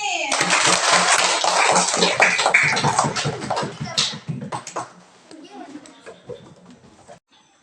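A classroom of children claps for a classmate in a dense burst that thins out over several seconds, with a teacher's and children's voices talking over it.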